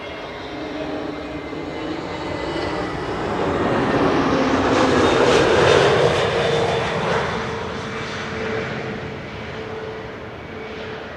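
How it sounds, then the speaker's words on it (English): An EasyJet Airbus A320neo comes in to land at Amsterdam Schiphol. Its jet roar builds from a steady hum to a loud peak around the middle, then eases off while still sounding close. "First up, this EasyJet A320neo, arriving from London Gatwick."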